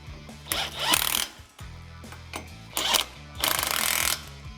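A power tool bursts in short, loud rattling pulses with mechanical whirs between, tightening shock assembly nuts during a Superlift lift kit install on a 2021-2022 Ford Bronco.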